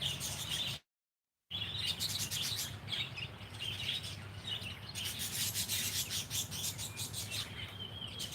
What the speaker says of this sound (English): Background sound. The birds are over there eating their breakfast.